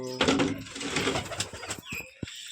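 Pigeons in a backyard loft give low, throaty coos, the calls overlapping with a brief flutter near the end, close and moderately loud without talk.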